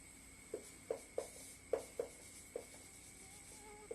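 Chalk strokes on a classroom board during a soil mechanics lecture, a series of short dry taps and scrapes spaced irregularly, fairly faint, with no talking.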